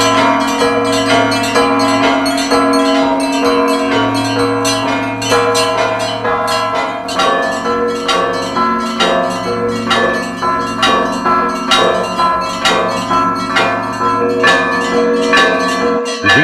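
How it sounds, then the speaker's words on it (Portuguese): Tower church bells in Ukraine, played by two bell ringers, peal loud and close in a dense, steady ringing melody of overlapping strikes with long resonant hum, continuing without pause. "Vasily e seu assistente tocam uma melodia que é a mesma desde que os sinos foram pendurados nesta"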